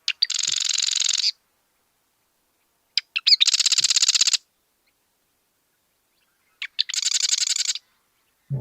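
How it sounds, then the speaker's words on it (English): Marsh wren song plays back as three separate bursts, each opening with a few sharp clicks and then a rapid, buzzy rattling trill about a second long, clear against silence. "the vast majority of marsh wrens that I've identified by hearing them"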